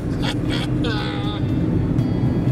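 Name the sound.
airplane cabin noise during flight to Queenstown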